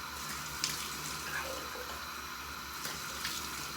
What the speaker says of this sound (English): Splash some water on my face just to keep it moistened.